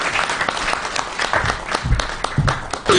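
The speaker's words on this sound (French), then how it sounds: "Si on peut applaudir pour Francine." Audience applause at an awards ceremony in the Congo, a steady wash of many hands clapping at moderate distance for about three seconds with no talk over it.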